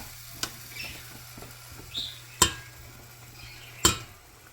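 Carrots being stirred in melted butter in a pan: soft, intermittent shuffling and faint sizzle under a low steady hum, punctuated by three sharp utensil clicks against the pan, close and clear.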